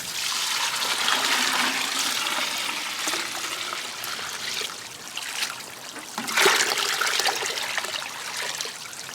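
Filtered or collected rainwater pours steadily into a container of worm castings to make worm tea, a continuous close splashing trickle that swells and ebbs slightly over several seconds with no talking.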